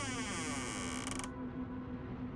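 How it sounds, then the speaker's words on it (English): A door creaks open slowly in a long, sustained groan with a steady low drone beneath it, fairly quiet and with nothing else over it. "The door ever so slowly creaked open,"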